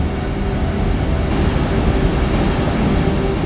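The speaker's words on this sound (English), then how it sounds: "The sound of the winds from a tiny moon nearly 1 billion miles away." Continuous dense roaring rush of wind on Saturn's moon Titan, captured by the Huygens space probe, holding steady and fairly loud throughout with no voices.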